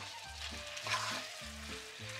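A pork spezzatino seasoned with marjoram is stirred and sizzles in a pot, a steady hiss with soft scraping and pulsing background music running throughout.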